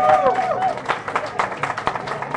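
A live crowd at Jimmy's Grill claps and cheers in a moderate burst of scattered clapping and voices, with talk mixed in over the noise.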